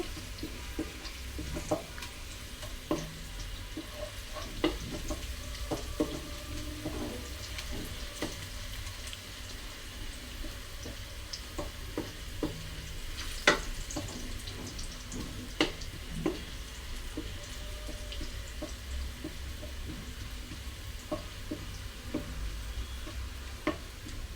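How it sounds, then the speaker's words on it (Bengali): Onions frying in a pan for a cauliflower dish, stirred continuously. A faint, steady sizzle carries scattered light clicks and scrapes from the stirring utensil, with no talking. "পেঁয়াজটা অনবরত নাড়তে হবে।"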